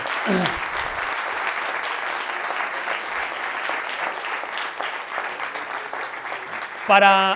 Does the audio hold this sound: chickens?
no